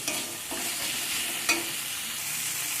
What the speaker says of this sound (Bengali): সব কিছুকে ভালো করে কষিয়ে নেব।